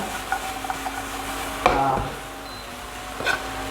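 Coriander leaves being stirred into a pan of chicken lollipop Manchurian, giving soft scraping and clinking of a utensil against the pan, with a firmer burst of stirring midway and a short metallic tap near the end.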